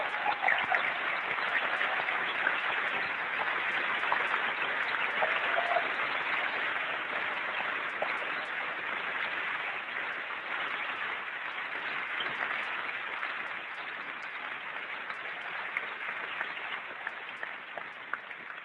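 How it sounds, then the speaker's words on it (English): Sustained applause from a large keynote audience at Macworld New York 1999, a continuous dense clapping texture that holds steady and only slightly thins toward the end. "I'd like to give them a round of applause."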